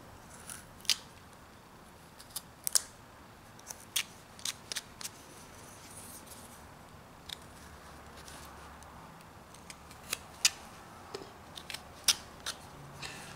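Knife blade whittling a small wooden fox carving, a series of faint, sharp cuts and scraping snicks at an irregular pace over quiet room background.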